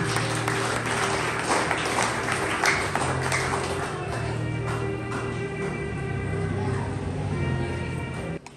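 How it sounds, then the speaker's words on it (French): An audience applauds an honoured graduate at a Bible school graduation ceremony, with continuous, fairly loud clapping lasting several seconds over a background hum. "Je vous demande de l'applaudir sur le monde"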